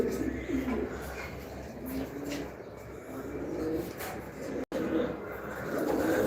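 Racing pigeons coo softly at a home loft, repeated low throaty calls rising and falling against steady background noise, with a brief dropout near the end.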